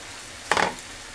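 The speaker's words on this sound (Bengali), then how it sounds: "নুডলস ভাজা হয়ে গেছে," Breakfast noodles are stir-fried with crumbled scrambled egg, salt and spice in a pan, producing a single brief scraping sizzle burst against a quiet background.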